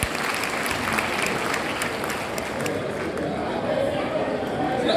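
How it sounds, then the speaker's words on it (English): A crowd at an opening ceremony breaks into sustained applause, dense clapping that fills the room and stays steady throughout, with a voice speaking over it. "Please, again, a round of applause to everyone who has made it here."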